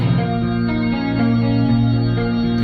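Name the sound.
clean guitar arpeggiated chords with keys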